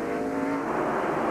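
Mike Wallace's NASCAR race car pulls out of the pits with a loud, sustained engine roar that holds steady with no break, and no voices over it.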